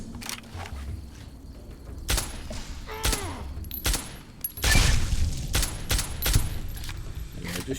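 Battle rifle gunfire in Fallout New Vegas: single sharp shots spaced irregularly, with a heavier burst of several rounds near the middle, over faint game ambience and no talk.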